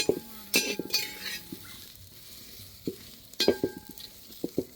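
Okra (ladies' finger) dry-roasted in a pan without oil for a thuvaiyal, with a few sharp metallic clinks and scrapes of a spatula against the pan over a faint sizzle, in irregular bursts.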